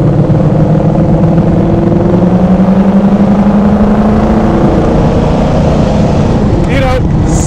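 A 1967 Pontiac Le Mans convertible with an optional 326 V8 drives along, its steady engine drone loud and close, with a person talking over it throughout.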